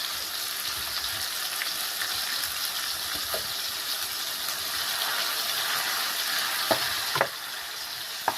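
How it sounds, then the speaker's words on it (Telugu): Ginger garlic paste frying in a pan, a steady broad sizzle with occasional sharp spoon scrapes and taps near the end, no voices. "1 స్పూన్ అల్లం చిన్నులపాయ పేస్ట్ బాగా వేగనివ్వాలి"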